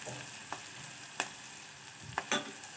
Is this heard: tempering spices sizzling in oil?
yes